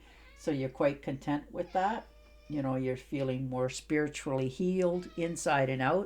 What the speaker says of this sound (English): that's my cat talking to you